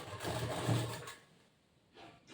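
A sewing machine runs in a brief burst while stitching a blouse, a steady mechanical whir for about a second, then it stops and a quieter rustle follows.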